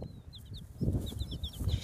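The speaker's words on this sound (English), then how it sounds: "She clucks when there's food." A broody hen gives low, soft clucks in short bursts while high chirps of her chicks peep repeatedly over them, close by, outdoors.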